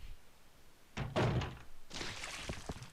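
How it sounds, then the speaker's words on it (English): A heavy door in the video game Resident Evil Code Veronica X thunks open with a solid knock, then a longer creaking, scraping swing follows, close and clear against a quiet background. "Let's open the door."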